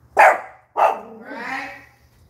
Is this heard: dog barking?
yes